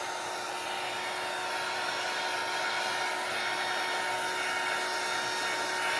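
Steady, loud blowing hiss of a dryer aimed at alcohol ink on a large Monstera leaf, a continuous airy roar with a faint whine, unbroken for several seconds with no talking.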